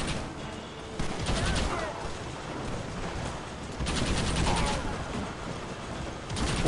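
Gunfire from a shootout with rebels in Red Dead Redemption on PS5, a dense rolling barrage of shots with heavier bursts near one and four seconds, with faint game speech mixed in.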